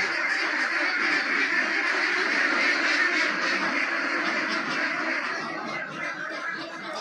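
Ducks on a laying-duck farm keep up a loud, continuous massed quacking that fills the whole stretch, easing slightly toward the end.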